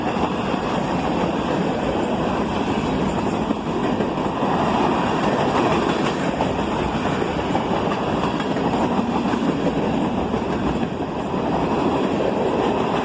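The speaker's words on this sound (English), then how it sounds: "And a couple coil shield cars from Conrail bring up the rear." An evening CSX freight train rolls steadily past, with Conrail coil shield cars at the tail. Its continuous, loud rumble and wheel clatter stay even throughout, with no voices.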